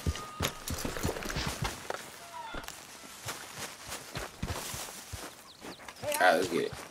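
Horses walking with hooves clip-clopping in Red Dead Redemption, a steady run of light hoof taps under a speaking voice, with a brief louder burst near the end.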